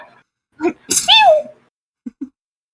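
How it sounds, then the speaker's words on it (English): A single loud, close sneeze with a sharp intake of breath before it, followed by a couple of soft short sounds. "That the person recording this just sneezed!"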